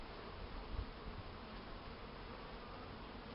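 Honeybees fly out from their hive on a cool winter day, around five degrees, to collect water, a soft continuous buzzing drone heard alone at low level with a faint outdoor hiss.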